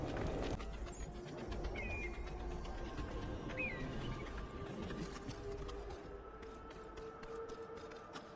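Bird calls in the Assassin's Creed 3 video game, a few short chirps and coos over a dense, steady outdoor ambience.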